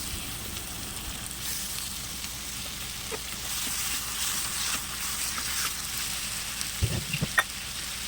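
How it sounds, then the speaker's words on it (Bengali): Chicken pieces sizzling in a pan with spice paste, a steady crackling hiss close by, with a few clattering stirring knocks near the end. "প্রায় হয়ে এসে এবার চিকেনগুলো অ্যাড করে দিচ্ছি আমি।"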